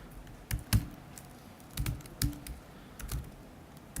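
Fingers tap sporadically on a computer keyboard, with scattered clusters of keystrokes and short pauses between them. The typing is fairly close and quiet, with no talking.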